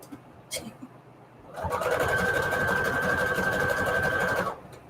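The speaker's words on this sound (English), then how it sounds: "I just love using my sewing machine" A sewing machine runs in one steady burst for about three seconds, a fast whirring rattle of stitching, after a few soft clicks and handling noises.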